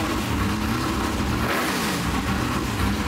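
A Lola race car engine starts, then roars and revs loudly and steadily in a garage, close up, with no talking.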